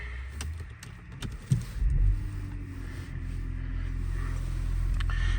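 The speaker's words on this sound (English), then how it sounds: "I'll turn the car on" A Porsche Panamera 3.0 diesel starts up inside the cabin with a brief cranking surge, then settles into a steady low idle rumble that holds alone to the end.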